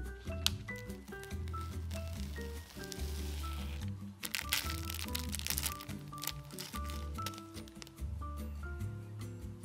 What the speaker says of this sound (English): you're gonna peel the large side of the sticker like this